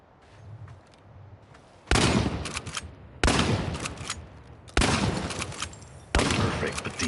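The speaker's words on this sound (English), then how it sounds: "You don't need to be a sniper to shoot this thing effectively, so that's something. The shotgun has considerable spread" Shotgun blasts in the video game ChernobyLite, four loud, sharp reports spaced about a second and a half apart, each with a decaying tail, over faint background hum.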